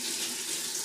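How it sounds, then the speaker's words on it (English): A kitchen tap runs for a moment while hands are washed, giving a brief, steady hiss of flowing water that is fairly close and alone. "I'm going to wash my hands."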